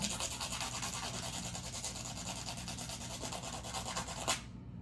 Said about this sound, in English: I'm going to sand this down. Whenever you are using copper wire, please make sure you sand it down.